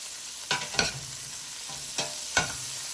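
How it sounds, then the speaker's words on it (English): Broccoli cooks in butter in a pan, a quiet steady sizzle broken by a few sharp spatula scrapes and clicks as it is stirred. "I'll let my butter cook up all my broccoli"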